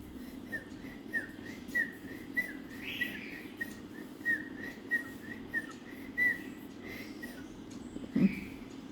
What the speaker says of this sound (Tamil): இப்படி விசில் அடித்து காட்டினோம்னா அவங்க அப்பா விசில் அடிக்கிறது அவனுக்கு தெரியும்